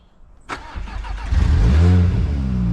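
A Volkswagen Golf engine cranks with a sharp click, then catches and settles into a steady, fairly loud idle with a low rumble.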